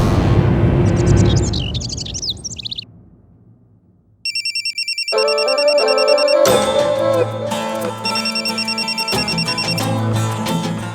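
A telephone rings in a Hindi TV crime drama, an electronic ringtone of repeating bright tones that cuts in after a fade and a moment of silence, continuing loudly over background music.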